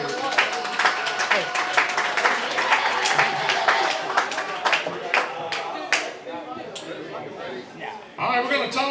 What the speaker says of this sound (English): Everybody put their hands together for all the Buckeye High School football seniors.